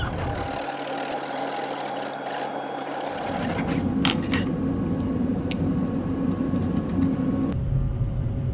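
A hand saw rasps through a purpleheart wooden fretboard, cutting fret slots for a seven-string baritone guitar, a steady close scraping stroke that grows louder and coarser partway through and continues to the end.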